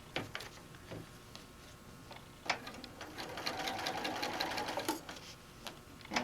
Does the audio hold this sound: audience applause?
no